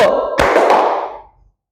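During an Indonesian classroom clapping game, one sharp hand clap rings out close and loud, following a brief voice, then decays in a short echo.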